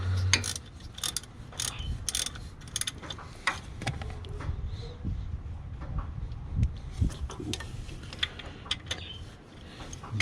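Rapid, continuous ratchet clicking from tightening a 14 mm pulley bolt on a Toyota pickup 22RE engine, close and steady for about ten seconds with a faint mechanical rumble beneath and no voices.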